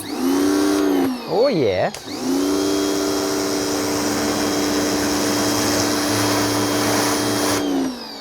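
A Kincrome 2600psi pressure washer runs with a turbo nozzle fitted, giving a loud, steady close motor whine and spray hiss. The pitch dips and wavers briefly near the start, and someone speaks briefly over it.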